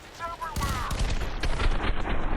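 Rapid bursts of gunfire crackle in F.E.A.R. 3, several sharp shots in quick succession building into a loud barrage ending in a headshot.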